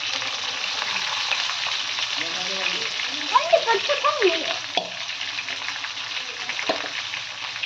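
Green chilies and onions frying in a pan for an egg curry, with a continuous bright sizzle, a few stirring scrapes, and a person talking over it in the middle.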